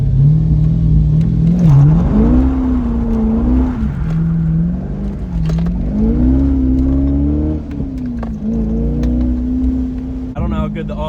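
A Corvette fitted with an inexpensive $200 aftermarket exhaust revs and accelerates, its deep engine note rising and falling through several pulls, loud and close throughout.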